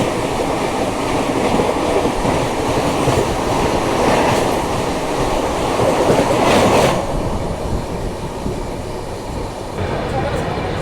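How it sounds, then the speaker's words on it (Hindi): Poorva Express passing the New Delhi–Howrah Rajdhani Express, heard from inside a 3AC coach: a loud, steady rumble of rolling wheels and carriages with a brief surge of rushing noise as the other train goes by. "तो चलिए लेते हैं एक बढ़िया सा क्रॉसिंग हमारी पूर्वा एक्सप्रेस और नई दिल्ली हावड़ा राजधानी एक्सप्रेस का"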